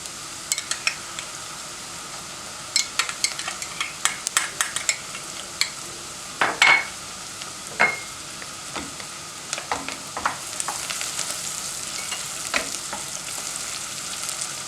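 Tomato paste fries in a pan with a dry, steady sizzle while a spoon scrapes and stirs it in irregular clinks and strokes, close by and with no talking; it is being cooked for Ezo Gelin soup.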